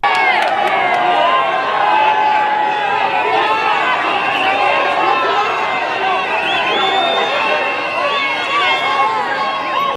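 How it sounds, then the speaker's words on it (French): A large crowd at a political gathering boos and shouts, a loud, dense and continuous roar of many voices that keeps up without a break throughout. "les partisans orange se sont retirés sous les huées de la foule."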